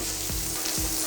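Tempura batter, with secreto pork, frying in hot oil gives a loud, dense, continuous sizzle with a couple of soft low thumps, close by and with no voices.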